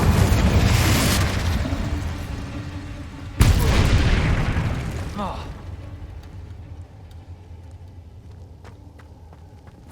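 Confringo blast spells go off in Hogwarts Legacy: a loud rumbling explosion, then a second sharp blast at close range that decays into crackling debris and scattered impacts, with a voice shouting in between.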